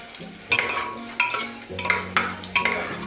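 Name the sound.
garlic frying and being stirred in a pan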